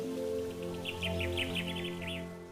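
A great spotted cuckoo gives a quick series of harsh, chattering calls. The calls are fairly faint and sit over a steady, droning musical background.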